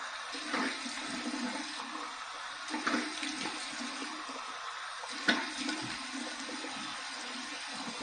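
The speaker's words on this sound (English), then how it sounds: "Look out, here we go, cold water rinse." Cold tap water running into a sink as a face rinse after shaving, a steady hiss of flow with a few louder splashes, close and alone without speech.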